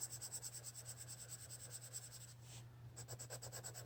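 Colored pencils scratch across paper while filling in a background, a soft, steady back-and-forth rasp in quick even strokes, close and quiet over a low hum.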